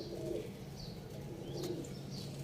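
Pigeons at a pigeon-flying contest coo softly over a steady outdoor hum, with a brief flutter of wings partway through.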